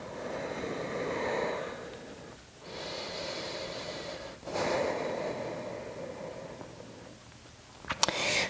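Slow, deep breaths drawn in and pushed out through the nose during a power yoga session, close and soft, with a few long steady exhales and a sharper snort near the end, no talking.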